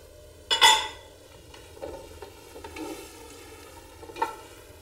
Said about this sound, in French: On ajoute les tomates fraîches.